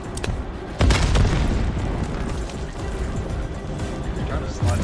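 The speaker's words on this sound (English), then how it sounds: "Hostile grenade!" A grenade explodes in the Call of Duty Black Ops 7 video game with a booming blast and a few sharp bursts, heard amid the game's combat noise and talk.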